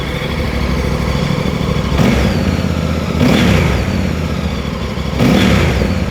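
A VOGE DS800X Rally motorcycle fitted with a Scorpion exhaust idles loudly, then gets revved three times in short bursts, each rise in engine pitch dropping back to idle.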